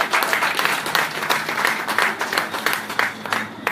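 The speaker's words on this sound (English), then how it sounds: "And now give yourself a round of applause." Applause from the audience at a political PEP meeting, a steady dense patter of many hands clapping close by that runs for the whole short stretch with no break.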